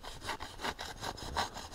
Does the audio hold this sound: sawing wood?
yes